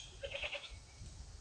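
A newly acquired billy goat at a farm pen bleats in a few short, wavering calls close by, followed by quiet outdoor background with no talking.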